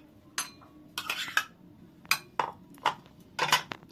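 Pieces of bowal fish are lifted into a bowl with a series of sharp clinks and scrapes of metal utensil on dishware, about six distinct knocks spaced irregularly in a quiet room.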